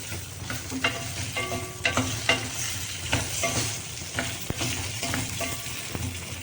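Stuffed brinjals fry in hot oil, giving a steady close sizzle broken by repeated clinks and scrapes of stirring throughout.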